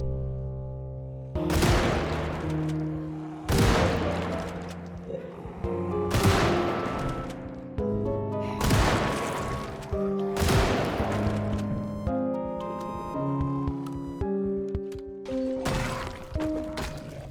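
12-gauge shotgun blasts in the zombie survival game Project Zomboid, about eight loud booming shots at a steady pace a couple of seconds apart, each ringing off under a low droning game soundtrack.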